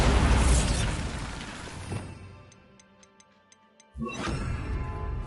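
A Bombarda spell cast in Hogwarts Legacy on PS5 lets off a loud blast that rumbles and fades, followed by light ticking and a second sharp burst.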